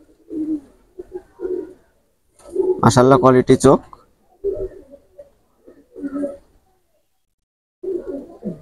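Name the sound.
pigeons cooing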